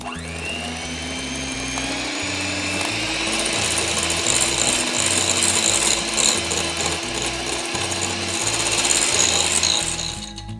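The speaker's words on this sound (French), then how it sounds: "je vais reprendre mon batteur électrique et je vais commencer par le jaune et je vais donc mélanger pour bien uniformiser mon colorant" An electric hand mixer whirs steadily while blending yellow colouring into meringue, a loud close motor whine with a grinding, rattling texture that swells slightly as it continues.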